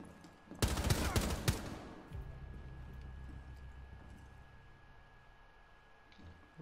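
Gunfire in Rainbow Six Siege aimed at the player: a burst of several loud, close shots in quick succession, followed by quieter rumbling footsteps and movement.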